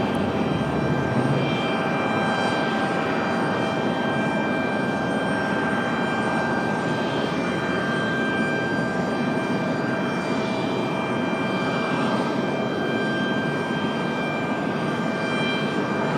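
An Air France heavy jet airliner departing Raleigh Durham International Airport, a loud continuous engine roar with a steady whine that holds strong and even throughout, heard from the ground at a distance.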